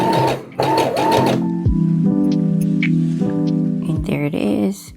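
A sewing machine at a regular 2.5 stitch-length setting back-stitches ruffles for junk journals, with a steady close mechanical whir interrupted by short pauses and changes in pitch, and brief bursts of other noise at the start and end.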